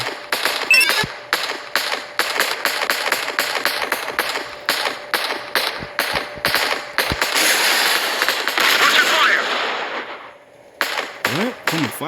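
Rapid bursts of gunfire from a drone combat video game aimed at military helicopters and planes, sharp repeated cracks packed densely for about ten seconds before a short pause and a few final shots.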